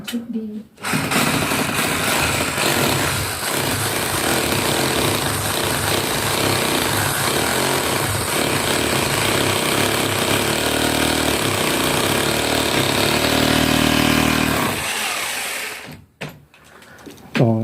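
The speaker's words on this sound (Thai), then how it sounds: "เจาะเป็นที่เรียบร้อย" A power drill boring holes to fit window bars in a bedroom, a loud continuous whir running for about fifteen seconds before stopping abruptly, with voices talking over it.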